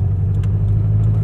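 A Subaru STi with a big turbo build idles steadily, a deep low rumble with a faint rhythmic ticking above it, close and unbroken.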